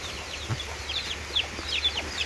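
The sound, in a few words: chicks clucking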